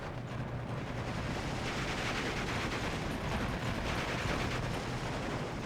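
Dual MG42 machine guns firing in Steel Division 2 during a Fallschirmjäger forest fight at Zbuczyn, a steady, distant-sounding rattle of gunfire amid battle noise, nearly continuous with no talk.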